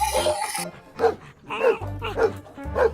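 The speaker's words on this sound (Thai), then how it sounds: "โอ้เจ้าสุนัขเล่นลูกบอลดอก" A battery-powered toy dog playing with a ball lets out a run of about five electronic yapping barks in an uneven rhythm, close and fairly loud, after a brief tonal jingle at the start.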